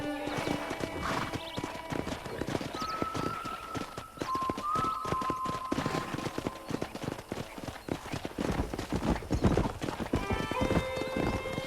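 Rapid clip-clop of horse hooves galloping steadily throughout, with an occasional whinny and a few brief tonal sounds over the hoofbeats, in the video game Red Dead Redemption.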